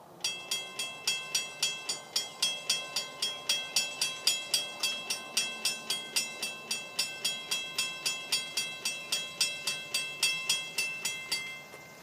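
Florida East Coast freight train 210 rolls past milepost 216, its wheels beating a steady, fast clickety-clack across rail joints at close range for the whole stretch, with no voices over it.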